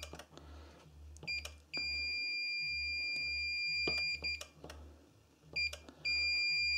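A Fluke 1651B installation tester sounds its continuity beep: several high electronic tones, some short and some held for a second or more, separated by brief gaps over a faint low hum.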